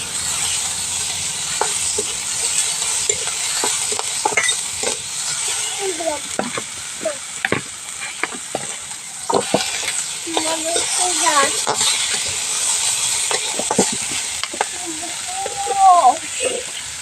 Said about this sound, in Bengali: একটা টমেটো, গাজর, বাঁধাকপি, এগুলো সবগুলো ভেজে নেব ভালো করে।